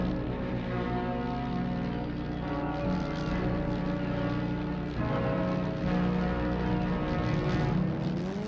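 A propeller aircraft in Hidden & Dangerous Deluxe drones steadily as it flies off, a loud, continuous engine hum with a slight shift partway through and no voices over it.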